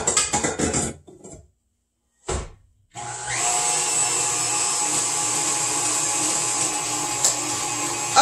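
An electric mixer creams sugar for a Dutch chocolate mayonnaise cake batter. A few brief rustles and a pause come first, then a steady, fairly loud motor whir runs on without a break.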